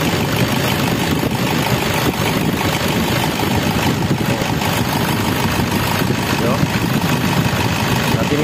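A Toyota Innova diesel engine with a power problem idles with a continuous, loud, rough rumble and clatter that holds steady throughout.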